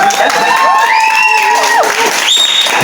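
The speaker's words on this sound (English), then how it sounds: "let's just cheer for that" A crowd cheers and applauds at a vendor event, with loud, sustained clapping, shouts and whoops that fill the whole stretch.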